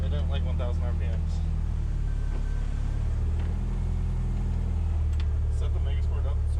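A high-compression 2.0-litre Dodge Neon engine on MegaSquirt standalone idles steadily on a dyno with larger injectors, a constant low rumble under people talking nearby.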